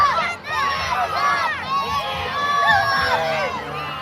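A Lumby Days crowd cheers on wrestler Big John, a dense mix of excited shouts, whoops and high children's voices rising and falling in waves, loud and close around the ring.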